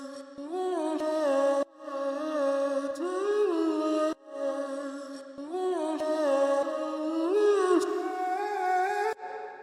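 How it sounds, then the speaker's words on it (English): Pitched-down vocal chop sample for chill bass music, with low, drawn-out sung syllables gliding and bending in pitch, cut into phrases separated by brief gaps, heard alone. "So the key to these vocal chops is to get like the really low pitched down kind of vocals."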